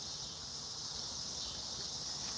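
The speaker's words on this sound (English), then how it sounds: "if you can hear it without the cicadas" A dense, steady high-pitched insect drone of cicadas fills the background, constant and unbroken throughout.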